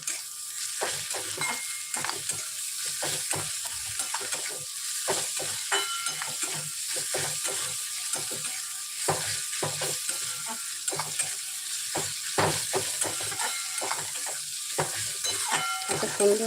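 Grated garlic and ginger sauté in a pan, a steady close sizzle broken by repeated scraping stir strokes from a spatula, with no voices.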